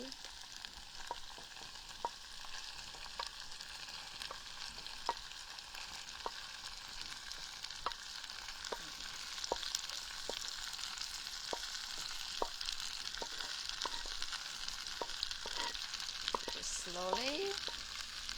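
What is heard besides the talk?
tofu and wood ear mushrooms frying in a clay pot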